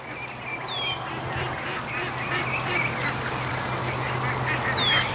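A group of ducks and ducklings quacking over steady background noise, with a few higher calls rising out of the din.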